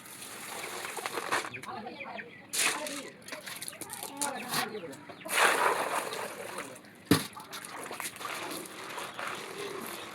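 Something muddy gets washed by hand in water in a village setting, with repeated splashes and sloshing bursts, one sharp splash near the end, while people talk over it.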